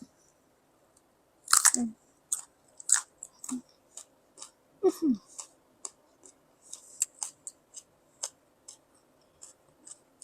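Sharp crunchy bites into a large fresh fig followed by wet, irregular chewing clicks, close up and quiet, with no talking.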